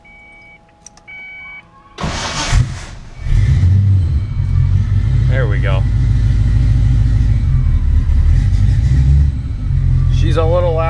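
A 1993 Ford Mustang LX Fox-body engine cranks and catches, then settles into a loud, steady rumbling idle; a person speaks briefly as it starts.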